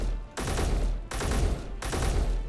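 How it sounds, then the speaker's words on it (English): Three loud, dense bursts of rapid gunfire from a three-round burst weapon in the Space Engineers video game, each burst a tight rattling cluster of shots, evenly spaced with short gaps between. "it is burst fire. You cannot change the firing modes, but it's 3 round bursts"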